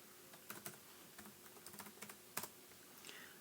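Password keys tapped on a laptop keyboard: a short, quiet run of light plastic clicks in an uneven rhythm, with one firmer press near the end, recorded close up in a quiet room.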